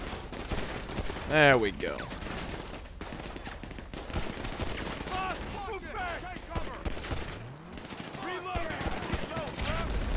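Pistol shots in GTA Online on PS5, recurring sharp cracks amid ongoing firefight noise, with a player talking briefly and game voices sliding in and out.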